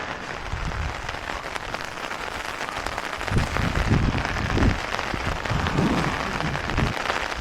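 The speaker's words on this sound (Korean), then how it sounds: "비가 생각보다 많이 오고 있습니다" Heavy rain pours down steadily at a house construction site, a dense, continuous hiss of drops striking surfaces, with heavier splashing bursts through the middle and no voices.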